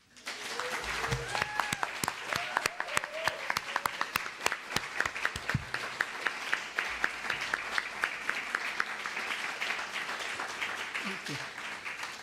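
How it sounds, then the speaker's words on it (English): A church congregation at a Sunday Passover service applauds its new leaders, steady sustained clapping from a large crowd filling the room for about twelve seconds, with faint voices underneath. "Congregation, please show your appreciation for our new leaders with your applause."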